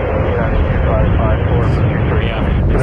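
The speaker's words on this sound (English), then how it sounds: "There's a 737-900 ER. United 2554 from Washington, landing on runway 23." A United Boeing 737-900ER airliner landing on runway 23 at Toronto Pearson, a loud, steady roar of jet noise throughout, with a voice speaking over it.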